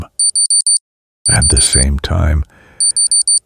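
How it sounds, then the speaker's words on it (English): Short electronic alarm beeps from inside a high school's emergency room sound in quick groups of four, stopping while a person talks, then starting again. "the beeping sound was coming from inside a room that has a sign that says emergency room."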